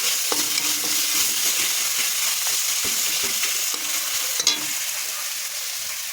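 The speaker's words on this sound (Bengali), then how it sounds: "তো এবার দিয়ে দেবো এই মশলাগুলো, যা যা বাটা মশলা ছিল" Ground spice paste frying and being stirred in a pan for an egg and cauliflower dish, with a steady close sizzle and repeated scraping stir strokes throughout, no voices.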